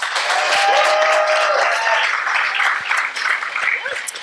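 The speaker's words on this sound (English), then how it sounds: "please, round of applause for Jeffrey" Audience applause welcoming a speaker onstage at a talk about flying small single-engine aircraft, a dense steady wash of clapping with some cheering voices, loud and sustained before easing slightly toward the end.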